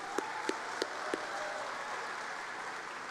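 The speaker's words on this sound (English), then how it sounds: "round of applause for what they've done" Graduation ceremony audience applauding the graduates, a broad, even wash of clapping with a few sharp louder claps near the start.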